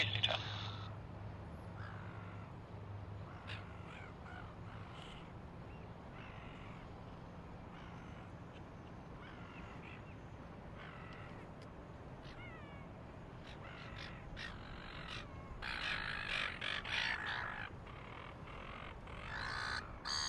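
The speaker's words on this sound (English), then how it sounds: "There's some seagulls decided to have a fight right next to me." Seagulls squawk and scuffle close by at Sydney Airport, harsh repeated calls in bursts over a steady outdoor rumble, growing louder and more frantic near the end.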